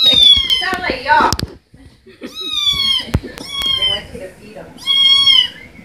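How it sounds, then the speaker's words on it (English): Cat meowing repeatedly in loud, drawn-out, harmonic calls: several meows spread across the stretch, one rising wail near the start, with a person talking over and between them indoors. "I think this one has the most annoying meow."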